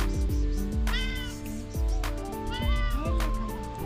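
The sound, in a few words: cat meowing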